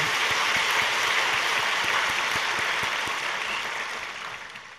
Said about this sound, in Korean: 이제 박수를 좀 쳐주십시오.